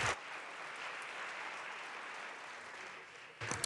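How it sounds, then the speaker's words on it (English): Applause fills the Colorado House chamber during a legislative session, a steady, moderately distant wash of clapping that runs evenly, with a brief louder burst at the very end. "Please give him a warm applause"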